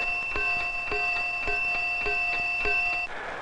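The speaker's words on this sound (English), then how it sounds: "The bell you hear ringing is not just an alarm signal, it's a coded signal telling where the alarm has been activated" A coded fire alarm bell in an old 16mm educational film rings loud and close, striking in a steady, rapid sequence with a sustained metallic ring, then cuts off near the end.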